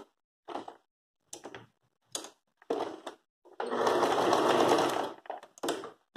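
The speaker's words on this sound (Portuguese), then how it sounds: "Mudo o ponto pro reto, porque eu vou fazer um retrocesso aqui" A sewing machine runs a straight-stitch backstitch on a floral rug, giving one sustained whirring burst of about a second and a half between short, separate clicks and bumps of handling.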